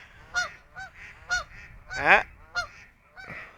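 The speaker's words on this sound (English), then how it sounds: "I know, those geese are loud" Geese honking loudly near Mackinaw City, half a dozen sharp nasal honks in an irregular sequence, one louder and longer than the rest, with a brief human exclamation among them.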